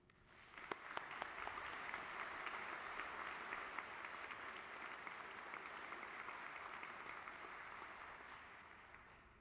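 A commencement ceremony audience for the School of Education and School of Environmental Sustainability breaks into sustained applause, a steady dense roll of clapping that carries on for the full stretch with only faint crowd murmur.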